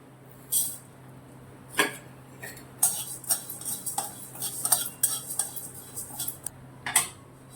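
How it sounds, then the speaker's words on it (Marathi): Urad dal dry-roasted in a pan, heard as irregular crisp metallic clinks and scrapes of a spatula, some isolated and some in quick clusters, over a low steady hum with no talking. "उडीद डाळ भाजून घेऊया।"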